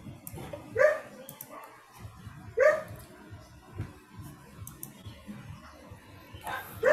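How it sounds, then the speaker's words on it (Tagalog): A dog barks a few times at intervals, somewhat distant, over a quiet background hum. "Ang ingay ng aso."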